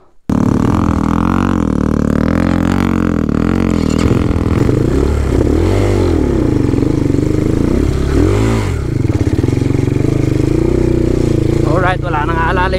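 An HJX 250cc four-stroke trail motorcycle engine runs close by on a mountain trail, loud and steady, with its pitch rising and falling through several revs over about twelve seconds.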